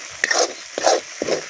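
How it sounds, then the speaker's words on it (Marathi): Moth beans (matki) roast in oil on an outdoor wood-fired stove in a field for misal pav, with three short scraping stirs and sizzling bursts at an even pace, close and alone. "आता हेच आपल्याला मटकी टाकायची. मटकी चांगली भाजून द्यायची मस्त पैकी."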